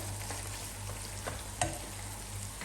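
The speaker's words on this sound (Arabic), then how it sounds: "نزيد نخليه القرنيط يتقلى مع الطماطم" Cauliflower frying with tomatoes in a pan gives a steady, soft sizzle with a low hum underneath and one brief clink partway through, with no talk.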